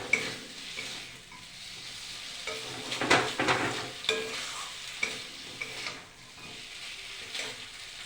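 Spicy aloo dum, potatoes cooking in a pot with tomato, gives off a steady sizzle and frying hiss, with an occasional scrape of a stirring spoon close by.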